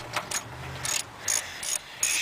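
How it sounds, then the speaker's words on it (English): A ratchet with a 10mm socket backs out headlight bolts on a 1996-98 Honda Civic, short bursts of rapid clicking repeated several times with brief pauses between, close and clear. "you're going to have to take all those 4 bolts off using a 10mm"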